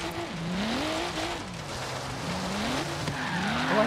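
Tires screech as a Subaru BRZ Horizon Edition drifts in a racing video game, a sustained wavering squeal that rises and falls in pitch over a steady engine drone, loud and continuous with no talking.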